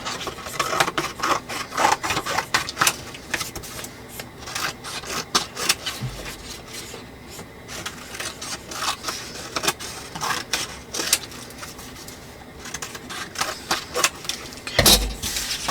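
Paper being trimmed for a junk journal, heard as a long stretch of close, irregular cutting, rubbing and rustling strokes, with a couple of louder knocks along the way.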